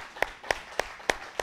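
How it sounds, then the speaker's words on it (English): Congregation in a church service clapping hands in praise, five evenly spaced sharp claps about a quarter second apart, fairly faint and distant in a quiet room. "Give the Lord a hand clap of praise, would you?"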